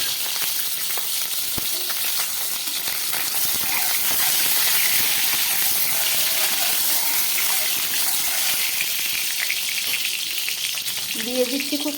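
Eggs frying in a pan while they are cooked for a Bengali egg do-pyaza, giving a steady close sizzle and hiss that runs without a break, with a little clatter near the end.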